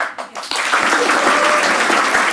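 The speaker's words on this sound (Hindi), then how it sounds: "नेक्स्ट स्टेप सुनते तुम लोगों को ताली बजानी है" A stand-up comedy show audience breaks into loud, sustained clapping on cue after a short pause, steady dense applause filling the room.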